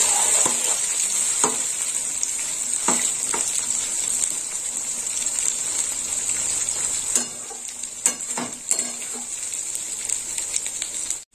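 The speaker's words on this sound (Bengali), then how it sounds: "এই মশলার সঙ্গে বেগুনটাও ভাজা হয়ে যাবে" Eggplant fries in hot oil with spices for a spicy fish curry, giving a steady bright sizzle broken by intermittent clanks and scrapes of a stirring spatula, close and continuous.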